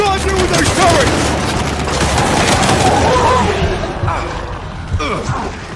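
Sustained turret and weapon fire in the Gears 5 battle game, a dense crackling fusillade running throughout, with shouted voices mixed into the combat.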